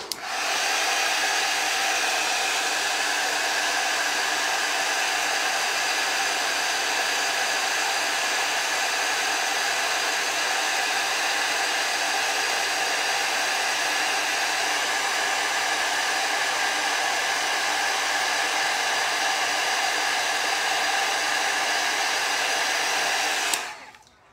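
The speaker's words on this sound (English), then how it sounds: "get our heat tool" A heat tool blows steadily on card stock for a baby card, a loud continuous whooshing roar that runs unbroken for over twenty seconds and cuts off abruptly at the end, with no talking.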